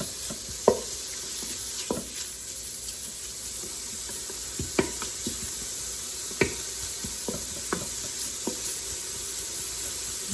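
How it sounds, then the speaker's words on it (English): Small bacon pieces sizzle faintly in a pot on a stovetop while being stirred and broken apart, with a steady hiss and scattered scraping clicks from the utensil at irregular intervals. "I'm just going to break it, cook it till these little pieces are kind of separated from each other"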